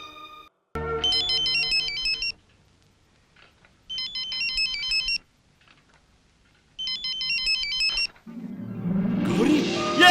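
Phone ringtone sounds in three loud melodic bursts of about two seconds each, separated by short silent gaps, while a call is being placed; a louder burst of noise follows at the end.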